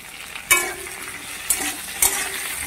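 Grated ginger frying with spices in a pan, a steady sizzle with three sharp stirring scrapes of a utensil against the pan, close and alone without talk.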